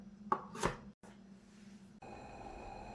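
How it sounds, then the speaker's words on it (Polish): A knife chops carrot into half-moons on a board, two quick, sharp cuts close by, then a soft steady background hum. "Kroimy w półksiężyce marchewkę."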